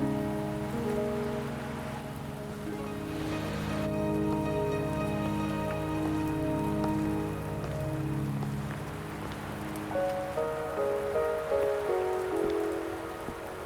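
Steady rain falls in the video game Wuthering Waves, a continuous close patter on surfaces under a layer of sustained musical tones, with no talking.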